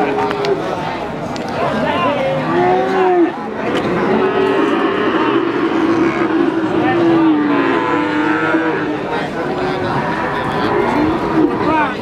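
Young feeder cattle at a livestock market low in a series of drawn-out moos, near and loud, amid steady chatter of people and background market bustle.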